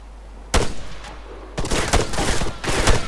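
Gunshots in the military shooter ArmA 3: a sharp single crack, then a fast string of close, loud rifle shots firing in quick succession, no talking.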